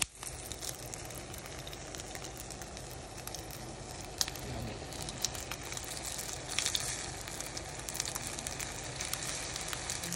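An omelette sizzles in a frying pan, a soft, steady crackle and hiss that continues evenly with a few small pops and no talk.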